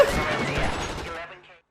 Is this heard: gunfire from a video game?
yes